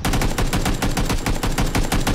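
Rapid bursts of automatic gunfire in PUBG on the Miramar map, loud and dense, with short rhythmic gaps between volleys.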